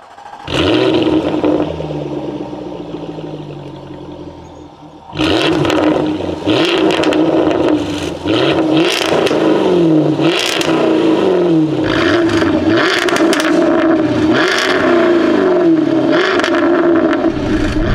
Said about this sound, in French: le son en V8 R, je sais pas comment Jaguar a homologué ça à l'époque